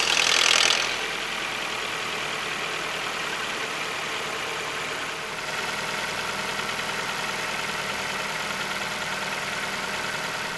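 A Ford Focus MK2 engine idles with a steady, even mechanical hum after a brief louder burst at the very start, close and alone with no voices.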